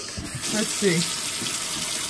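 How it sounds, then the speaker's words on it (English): Water draining freely down a kitchen sink just unclogged with vinegar, baking soda and hot water, a steady close rush of running water with a brief voice at the start. "The water is going down immediately, and that's exactly what we wanted."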